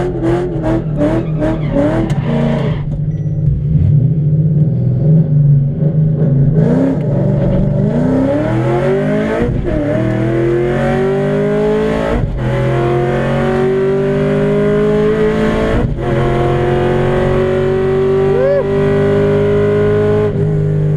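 A naturally aspirated V8 car with water methanol injection launches on a race run. The engine roars loudly and close, and its pitch climbs through several gear changes with brief dips between shifts.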